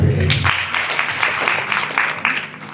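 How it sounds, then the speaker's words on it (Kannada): An audience at a district legal services authority event in Bidar claps loudly in a sustained burst of applause, with faint voices underneath. "ಜೋರಾಗಿ ಚಪ್ಪಾಳೆ."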